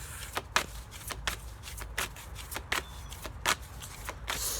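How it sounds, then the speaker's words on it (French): A tarot card slipped back into the deck, then a run of crisp riffling shuffles in quick bursts, close and clear with no voices. "votre carte, mais elle n'est pas retournée, donc on va la remettre dans le paquet"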